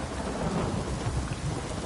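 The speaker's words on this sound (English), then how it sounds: "Raining fucking buckets." Heavy, steady rain pours down while low thunder rumbles continuously underneath in the video game The Witcher 3: Wild Hunt, with no voices.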